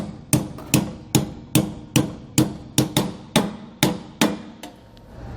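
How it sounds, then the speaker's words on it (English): A hammer taps an old bolt into a leaf spring hanger on a 2013 Dutchmen RV suspension, a dozen close, sharp metallic strikes in a steady, even rhythm with nothing else heard. "We're just kind of gently tapping it in there until we start to see it go, then we can drive it in the rest of the way."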